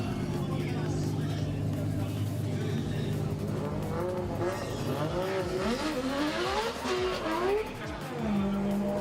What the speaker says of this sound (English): Oh, I hear the cars in the burnout box